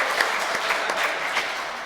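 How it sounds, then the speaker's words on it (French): Congregation applauding during a Catholic Mass in church, a dense, even wash of clapping heard alone at moderate volume. "Oui, applaudissez les femmes."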